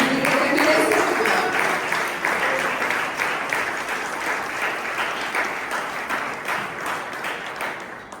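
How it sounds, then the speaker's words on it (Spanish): Church congregation claps loudly in a dense, sustained burst of applause that starts strong and slowly thins out over several seconds. "Si usted lo cree, denle un aplauso a mí."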